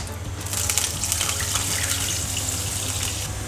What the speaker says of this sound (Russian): в сковородку наливаем немного воды